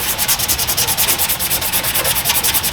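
Steady, rhythmic hand-sanding with 180 grit sandpaper on Bondo body filler during a crashed Honda Odyssey repair, a close, loud scratchy rasp repeating in even back-and-forth strokes with no talking.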